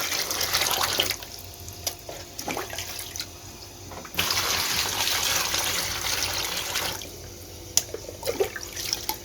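Fresh water is poured into a container of live tubifex worms, a close, splashing stream that rises and falls in strength, with short pauses between pours.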